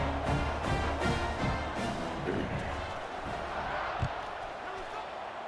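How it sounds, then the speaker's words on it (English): A stadium crowd at a Texas State versus Southern Miss college football game keeps up a loud, dense, continuous roar throughout, with scattered shouts and a few sharp thuds, while an announcer talks over it. "this crowd is buzzing after that last score"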